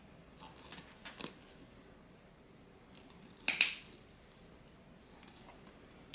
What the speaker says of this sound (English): hole punch here. Punch the holes.